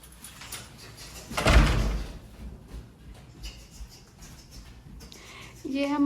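A house door opens with a loud rattling thump and clatter, followed by quieter handling noises and a short high squeak at the end, with faint background talk.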